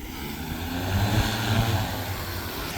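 An X8 agricultural spraying drone flies over a burnt grass field beneath 33 kV power lines. Its propellers make a steady, fairly loud droning hum that swells slightly in the middle, with no talk.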